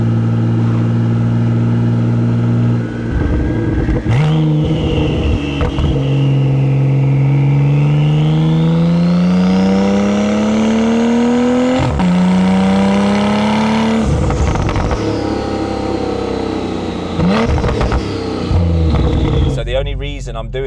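A tuned 1500 bhp Porsche 992 Turbo S cruising in seventh gear at about 35 mph in traffic, its engine droning steadily with gentle rises in pitch as it accelerates, heard from inside the car under continuous talking.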